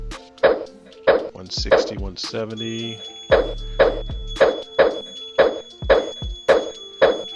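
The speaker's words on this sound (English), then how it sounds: "You can hear my phone in the background binging." A phone notification keeps chiming in the background, a short bright bing repeating roughly every half second under a man counting numbers aloud, with a brief cluster of other tones midway.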